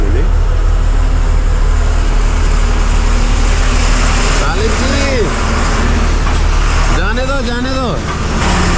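Cars and trucks drive past on a rain-damaged road, a steady loud traffic roar with vehicles sweeping by close, including a horn-like tonal passing around the middle and end, while people talk over it.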